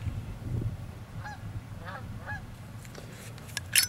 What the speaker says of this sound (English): Got some geese passing.